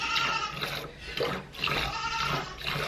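Dairy goats bleating at morning milking time on a homestead: several loud, wavering bleats close by, running one into another over steady background noise.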